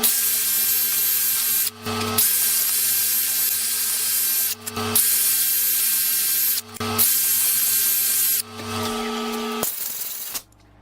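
A lathe spins a resin and wood project while sandpaper is worked from 240 up to 800 grit, giving a steady hissing rub over a motor hum, broken by several short pauses before the machine winds down.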